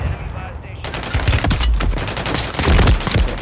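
Rapid gunfire from a weapon in Call of Duty Modern Warfare III, a dense run of sharp shots rattling close and loud from start to finish, with some game noise beneath.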